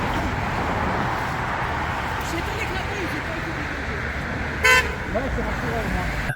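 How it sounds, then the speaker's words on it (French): Traffic rumbles steadily while a car horn gives one short, sharp honk partway through, with voices talking over the street noise. "Les voitures ils klaxonnent, c'est normal."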